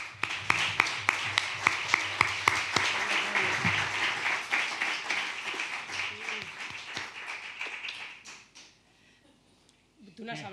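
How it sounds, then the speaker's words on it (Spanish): Applause from an audience at an awards ceremony at a rural hotel, greeting a photographer honoured with a prize; sustained clapping with sharp individual claps that swells and then fades away, with voices mixed in underneath. "Recibamos con un fuerte aplauso al merecedor de tal galardón"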